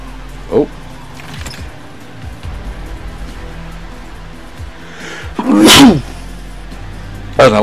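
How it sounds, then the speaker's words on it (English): A video game character sneezes sharply and loudly, with a short buildup just before the main burst, amid quiet ambient game noise during a Far Cry New Dawn looting mission. "Oh no, I'm sneezing."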